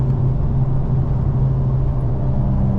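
An Infiniti Q50 3.0t engine held steady near redline for data logging, producing a loud, constant droning roar with an unchanging pitch throughout, close by and without speech.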